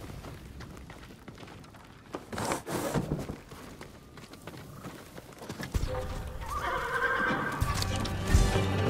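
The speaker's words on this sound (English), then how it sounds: "They're samurai horses." Horses neigh and whinny with clip-clopping hooves in the samurai video game Ghost of Tsushima, near and fairly loud, with game effects and rustling around them.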